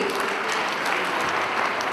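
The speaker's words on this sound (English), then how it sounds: "A huge round of applause, please." Audience applause for children who danced at a school kinderfest, a steady, dense wash of clapping from a crowd, fairly loud and without a break.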